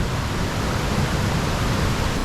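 Steady, full-bodied rush of a creek flowing downstream at its source, heard up close in extreme winter cold, with an even hiss and no voices over it.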